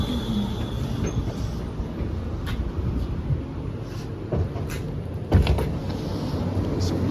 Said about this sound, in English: All right, here's our tram.